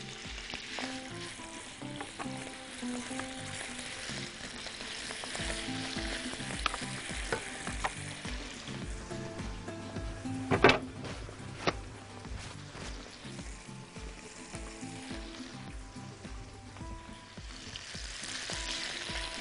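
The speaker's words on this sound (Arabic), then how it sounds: "الطاسه سخنت، هنزل بالسجق اول حاجه" Sausages frying in a hot pan for a potato-and-sausage pie, a steady close sizzle with scattered clicks and scraping of stirring throughout, one sharper clatter midway.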